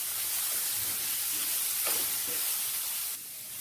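A ground spice paste sizzles steadily in a hot pan as it is sautéed for a drumstick-leaf dal thoran, with a continuous close hiss that eases slightly near the end.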